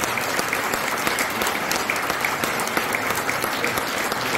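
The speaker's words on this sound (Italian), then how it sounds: "basta il vostro applauso" Dense, even audience applause welcoming writer Aldo Cazzullo at a book presentation evening in a library in Tradate, continuous clapping at moderate level without a break.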